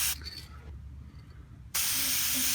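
CRC corrosion inhibitor hisses from an aerosol can in close, loud bursts: a sharp spray at the start, a quieter pause, then a second sustained spray that runs strongly to the end.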